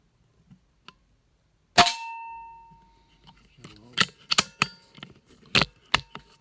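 An air rifle fires pellets indoors at a 10-meter target, giving one sharp crack followed by a series of quieter clicks and clacks from handling or cycling the gun, close and fairly faint, with some talk.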